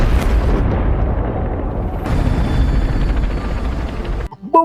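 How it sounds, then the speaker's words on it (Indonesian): A suicide bomb explosion: a loud, sustained blast roars with deep rumbling for several seconds, then cuts off abruptly into near silence. "Bom itu pun meledak."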